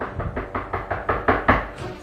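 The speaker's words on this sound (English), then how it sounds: "Suddenly, someone knocked on the door." Eight quick, evenly spaced knocks rap on a door, close and fairly loud, with the blows growing slightly stronger toward the end.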